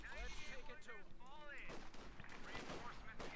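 Rapid bursts of Thompson submachine gun fire and other gunshots echo through a Company of Heroes 2 battle, mixed with explosions and overlapping voices.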